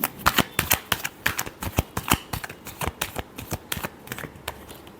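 Tarot cards being shuffled in quick, crisp riffles, a steady run of sharp papery snaps and flutters close by with no talk.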